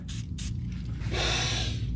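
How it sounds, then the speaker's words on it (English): An aerosol can of spray lubricant hisses onto semi truck wheels, first in two quick short spurts and then in a longer, steadier spray, close by. "Best smelling spray lube"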